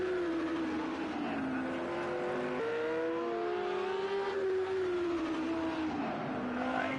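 Racing cars roar around the Long Beach street circuit in a PS4 racing game, a Ferrari among them, engines droning loudly and continuously with rising and falling pitch as they shift gears down the back straight.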